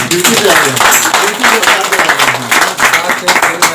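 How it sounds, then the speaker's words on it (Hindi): An audience claps at a Hindi-language public gathering, loud, steady applause that is mixed with voices and crowd noise throughout. "एक और बेहतरीन ताली बजा दीजिए"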